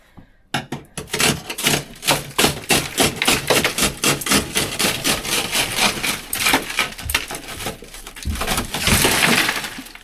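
Glass being smashed out while a tour bus is stripped, a rapid run of loud, close cracks and shattering impacts, then a dense crunch of breaking glass at the end.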